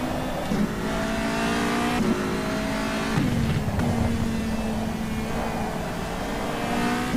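A Formula Renault 3.5 race car engine in the rFactor2 racing sim at a Malaysia circuit, heard up close as a loud, steady whine that drops pitch in several quick downshifts through a tight bend.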